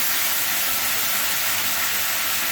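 A paste of cumin, ginger and mustard sizzling in hot oil while a simple tilapia fish curry is cooked, giving a steady, fairly loud hiss that runs evenly throughout with no break.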